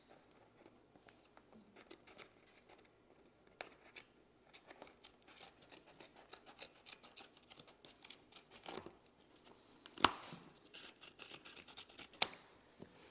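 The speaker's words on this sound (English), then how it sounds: "So I will take the scissors over here." Scissors snip and scrape at the edges of a stretched canvas photo print, a quiet close series of uneven crisp cuts, with a few sharper snips near the end.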